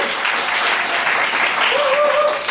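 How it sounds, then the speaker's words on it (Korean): A church high-school youth group breaks into steady, dense applause in a hall to congratulate a student. The clapping is loud and continuous, and a thin whistle-like tone rises over it near the end. "우리 병수한테 축하한다고 우리 박수 좀 쳐주시겠어요?"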